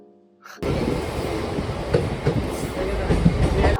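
A local train running on an Indian railway line heard from on board, a loud steady rumble with rhythmic wheel clatter starting suddenly after a quiet moment and continuing throughout.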